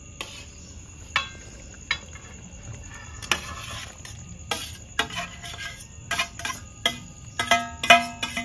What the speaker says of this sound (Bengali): সেদ্ধ করা চিকেনটা ঢেলে দেবো